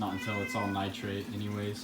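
A pet cat meows repeatedly and close by beside a new 90-gallon reef aquarium, drawn-out tonal cries running under a man's speech.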